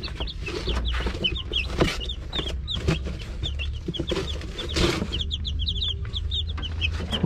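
Rhode Island chicks crowded in a cardboard box keep up a constant high peeping and cheeping, many overlapping calls close by, along with soft rustling and scuffling against the cardboard.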